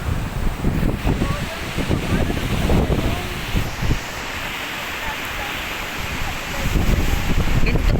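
The flooded Dait River rushes past in a strong current, a broad roaring wash of water mixed with gusting wind buffeting the microphone, steady and close.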